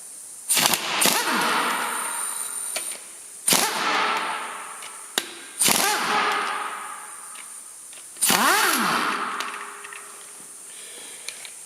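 An impact gun loosens timing cover bolts through a socket in four sharp, loud rattling bursts of a second or two each, with quiet gaps between them and no talking.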